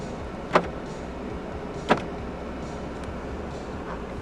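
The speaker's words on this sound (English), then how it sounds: "Electronic central locking." Electronic central locking on a 2015 Ford Ranger 2.2 XLT double cab firing twice, two short sharp clunks about a second and a half apart, close by against a steady low cabin hum.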